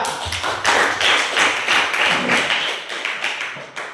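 A class of students at a religious-studies lesson claps together, steady close-range clapping that fades toward the end, with no voices.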